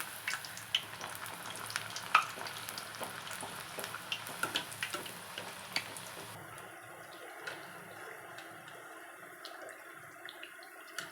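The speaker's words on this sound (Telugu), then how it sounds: "ఈ గ్యారల్ని మీడియం ఫ్లేమ్లో పెట్టి కాల్చుకోవాలి" Bottle gourd lentil fritters (garelu) frying in hot oil over a medium flame, a soft bubbling sizzle with small crackles that grows quieter and thinner partway through, no voices.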